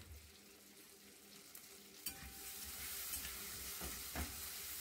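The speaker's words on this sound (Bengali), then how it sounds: "আর এখানে দেব আমি 4-5টা লবঙ্গ দিয়ে এটাকে আমি একটু ভেজে নেব" Cardamom, cinnamon and cloves fry in a pan with a soft, quiet sizzle, broken by a few light scrapes as a spoon stirs them; no one speaks.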